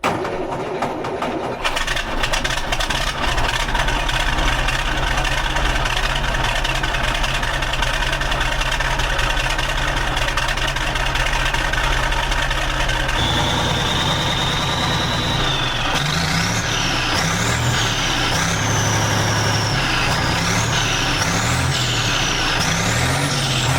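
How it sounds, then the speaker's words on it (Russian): A MAZ truck engine starts for the first time with a newly fitted sport exhaust: a loud, steady diesel idle rumbles close by, then changes tone and settles into repeated rising revs with a hissing air-brake-like release. "это первый запуск с новым выхлопом"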